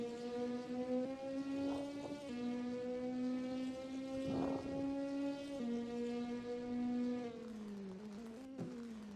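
DTM race cars in a racing video game sing along with a steady high engine drone that shifts pitch a few times as they work through the gears, loud and clear with no talk over it.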